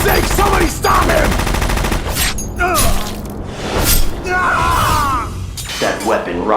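Bursts of gunfire with shattering glass and metallic clinks in the Metal Gear Solid digital graphic novel, loud and close, in several rapid volleys broken by short gaps, mixed with shouted voices.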